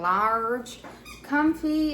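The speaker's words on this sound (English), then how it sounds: "And you can hear my dog Juno in the background squeaking the ball." A dog chews a squeaky toy ball, producing several high, wheezing squeaks in quick bursts, close and fairly loud.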